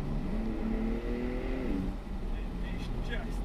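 A 2020 Porsche 992 Turbo S Cabriolet accelerating, the engine rising steadily in pitch for a couple of seconds before a gear change and a quieter rush of wind and road noise.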